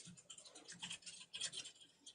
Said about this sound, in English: See, there's my keyboard.